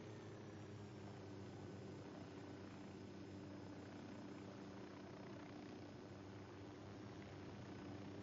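A helicopter in a PS4 video game gives a faint, steady rotor drone with a low humming engine tone, continuous and distant throughout, with no voices.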